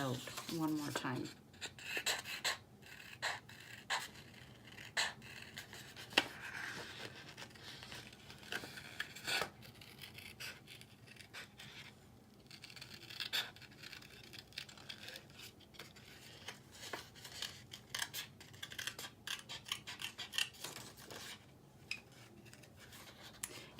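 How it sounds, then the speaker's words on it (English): Paper being fussy cut by hand with scissors for a card-making lid, a steady run of small close snips and rustles over a quiet background, with a faint voice now and then. "I think I'm just going to fussy cut it."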